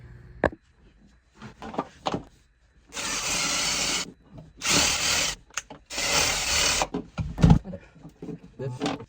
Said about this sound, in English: I took a wire wheel to that, cleaned it up, shined it up real good.